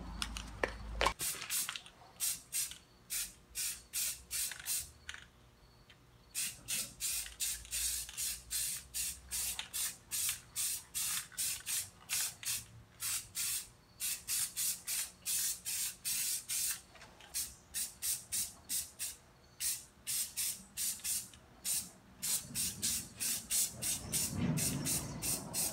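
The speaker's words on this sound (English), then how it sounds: "Now we're gonna start with the gloss. We shook it up really well. Just hit it with a light coat." Aerosol spray can putting a light gloss coat on wheels, heard as a long series of short, close, rhythmic hissing bursts with brief gaps between them.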